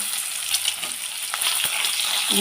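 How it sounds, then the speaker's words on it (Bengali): Eggs fry in hot oil in a wok with a continuous close sizzle and crackle, and a few brief scraping stirs. No voices are heard. "সবগুলো ডিম ভালো করে ভেজে নেব"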